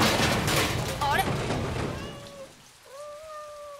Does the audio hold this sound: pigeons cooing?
no